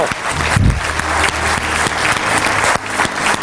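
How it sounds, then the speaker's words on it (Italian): Audience applause from a studio crowd at a televised village show, steady dense clapping throughout, loud and close, with a few brief voices beneath. "al quale facciamo un applauso"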